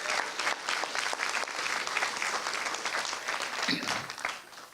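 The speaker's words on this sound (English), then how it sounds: "Please give her a round of applause." A press-conference audience breaks into sustained applause, dense clapping from many hands at an even level that tapers off slightly near the end.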